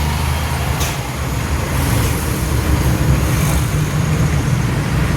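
Congested highway traffic between Tagoloan and Cugman in Cagayan de Oro: a loud, continuous wash of car, bus and truck engines nearby, with brief hissing brake bursts and no speech.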